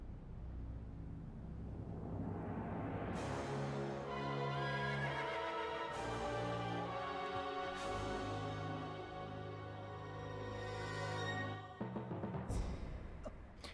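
A horse neighs loudly in The Legend of Zelda: Twilight Princess HD, a long whinny with game music beneath, and hoof clip-clops follow near the end, with no talking.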